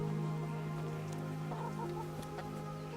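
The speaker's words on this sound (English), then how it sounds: "There's a lot of chickens" Chickens cluck repeatedly around an empty farmstead in the medieval video game Kingdom Come: Deliverance, a cluster of soft, close clucks over a steady ambient hum.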